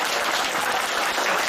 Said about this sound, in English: Clap if she was here to defy them.